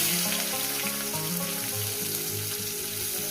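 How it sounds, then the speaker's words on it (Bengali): Chopped onions hit very hot oil after cumin seeds have been tempered, cooking for a Bengali katla fish curry. The result is a loud, close, continuous sizzle and crackle that holds steady throughout. "তেল প্রচণ্ড গরম আছে দিয়ে দেবো পেঁয়াজ কুচো"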